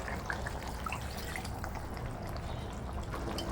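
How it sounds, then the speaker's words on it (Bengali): Mutton marinade spice water poured into a kadai of browned mutton and fried potato for Bengali mutton curry, a steady close pouring and sizzling wash with faint drips throughout. "এবার এটা যে আমি আগে যে মাটন মাখানো ছিল তার মশলার জলটা আমি কড়ার মধ্যে দিয়ে দেবো"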